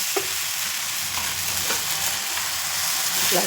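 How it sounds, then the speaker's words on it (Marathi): Moong dal batter sizzles in a lightly oiled frying pan on a gas stove, a dense, steady crackling hiss throughout with faint scraping ticks from a spoon. "फ्राय पॅन ठेवलं आहे गॅसवरती आणि तेल टाकले बरं का थोडंसं जास्त नाही टाकायचं थोडंसं टाकलं आता हे बॅटर एक चमच्यावर टाकलं"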